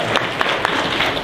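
Audience applause from a crowd at a Dragon Con fan panel on being a Blerd, steady dense clapping filling the whole short moment at moderate loudness.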